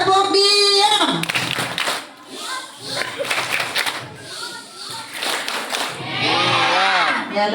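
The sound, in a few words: children doing the 'tepuk diam' clapping chant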